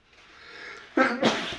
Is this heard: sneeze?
yes